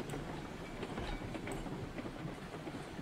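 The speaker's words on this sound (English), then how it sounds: "We're gonna come in with a solar-powered steam train." Steam train rolling along in the RailRoads Online video game, a steady dense rumble with faint rhythmic clicking from the wheels, continuous and even throughout with no voices.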